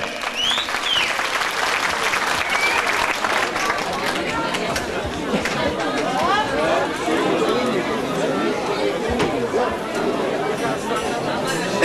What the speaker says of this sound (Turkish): Alkışlarla Erkan Ersoy geliyor.